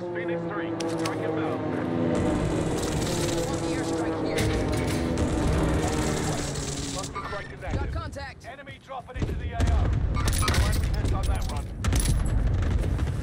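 Gunfire from the video game Warzone, solo mode, with dense bursts of shots and action noise running under continuous talk, growing louder and sharper toward the end.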